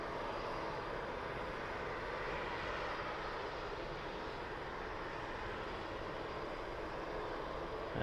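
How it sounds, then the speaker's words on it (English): Wizz Air Airbus A321neo airliner on approach, a steady broadband engine roar holding level throughout, moderately distant with no voices. "So this is the Wizz Air A321neo on approach."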